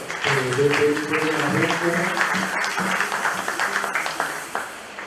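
A church congregation at a Sunday service breaks into steady, fairly loud applause, with voices singing or calling out over it throughout.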